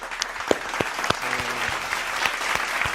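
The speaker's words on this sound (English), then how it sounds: "Give yourself a round of applause, man." Applause from a small group clapping steadily for a few seconds, distinct close hand claps in an indoor setting with only faint voices underneath.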